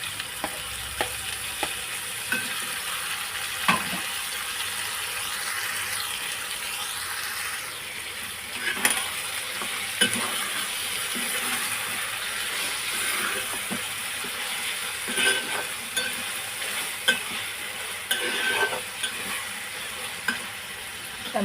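Tomatoes fry in a pan for a drumstick and tomato curry, a soft steady sizzle broken by scraping stirs and clicks at irregular moments, quiet and close, with no talking.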